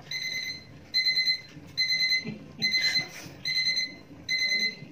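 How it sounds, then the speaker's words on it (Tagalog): A cooking timer alarm for mongo beans beeps in repeated bursts of rapid high-pitched tones, about five cycles separated by short pauses, loud and close. "nag-alarm na yung ating alarm para sa kanyang pagkaluto"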